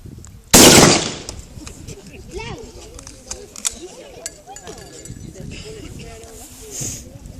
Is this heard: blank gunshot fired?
yes